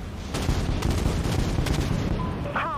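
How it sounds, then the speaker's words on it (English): Flak turrets firing and bursting in the Dreadnought capital-ship PvP game, a dense, continuous rumble of rapid blasts and booms, loud and close throughout. "the flak turrets do have some area damage when they explode"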